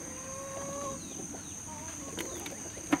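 Chickens clucking softly nearby with short chirpy calls, a faint steady hum in the background and a sharp tap near the end.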